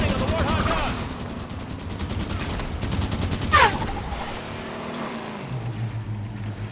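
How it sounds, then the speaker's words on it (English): Warthog-mounted gun firing in the Halo 5 campaign, dense rapid bursts of gunfire with game effects layered in, continuous and fairly loud for several seconds. "Supporting on the Warthog gun!"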